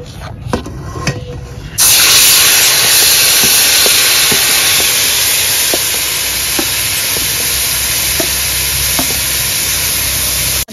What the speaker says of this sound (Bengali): রাখা কচুর ফুলটা তেলে দিয়ে দেব।